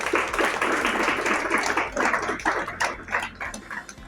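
An audience at a closing ceremony breaks into dense, continuous clapping that holds steady for a few seconds, then thins into scattered claps, with no voices over it.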